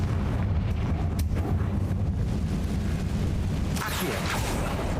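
In Hogwarts Legacy, a Confringo blasting spell lands as a loud, rumbling blast with a sharp crack early on, followed by a fiery roar and a second bright burst near the end.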